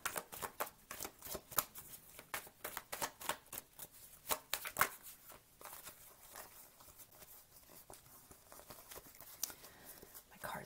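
Tarot cards are shuffled and flipped at close range, giving a run of sharp riffling snaps and soft flicks in uneven bursts, quiet and without talk.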